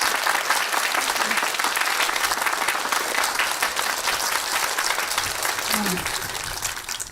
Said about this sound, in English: your love, and your hoorah and clapping